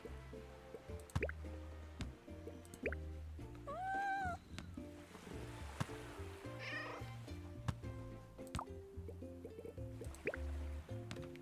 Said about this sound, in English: Ooh, cat. Cat, cat, cat.